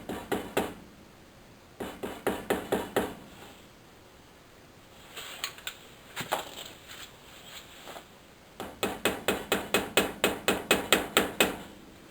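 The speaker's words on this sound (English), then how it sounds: "Stick your little pry bar in behind. A little tap, not too much." A small pry bar tapped repeatedly behind a front wheel hub dust cover on a rear-wheel-drive car, light metallic knocks in quick bursts with pauses while the rotor is turned, close and clear with no talking.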